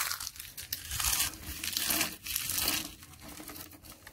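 Eggshells from four eggs squeezed and crushed by hand while making a PSB fertilizer mix, a close run of crackling, crinkling crunches in uneven bursts.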